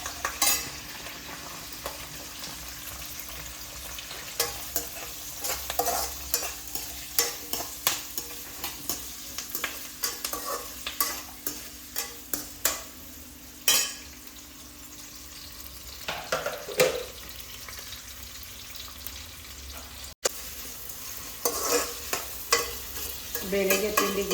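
Onions frying in hot oil for vegetable fried rice, with a steady sizzle and repeated close scraping and stirring strokes of a spatula against the pan, no talking.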